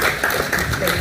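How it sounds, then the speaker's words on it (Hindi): Loud, dense clapping from an audience at a BSNL jubilee day function, welcoming guests with a brief, continuous burst of many hands close by. "बहुत बहुत जोरदार तालियों से"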